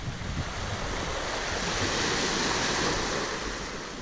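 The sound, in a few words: sea waves on beach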